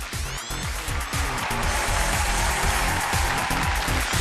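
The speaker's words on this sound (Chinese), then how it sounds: "掌声有请，有请" Studio audience applause greeting a guest onto a Chinese TV family-mediation show, steady and loud throughout, layered over a pulsing rhythmic music beat, with no talking.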